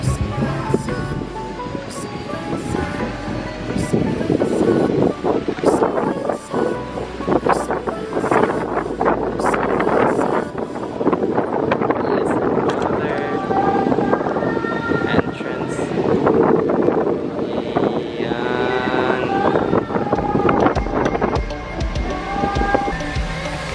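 Steady gusting wind roars and buffets the microphone throughout at a viewpoint on Samal Island, Philippines, with scattered voices and clattering noises mixed underneath.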